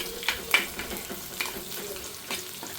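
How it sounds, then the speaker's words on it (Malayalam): Crushed shallots, garlic and curry leaves fry in hot oil: a soft continuous sizzle with a few light stirring clatters, close and fairly quiet. "ചുവന്നുള്ളിയും കൂടെ ചതച്ചതിടുകയാണ്"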